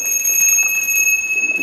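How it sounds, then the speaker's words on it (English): A handheld bell rings steadily, its bright sustained tone carrying on loud and alone for the whole stretch, with slight wavering as it is shaken. "This is a bell, right?"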